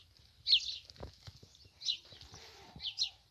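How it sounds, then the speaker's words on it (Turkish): Birds chirp at sunrise over a highland pasture in Sorkun village, Bozkır, Konya, giving a few sharp, bright calls spaced apart against quiet background with faint knocks and rustles. "Kuş sesleri cıvıl cıvıl"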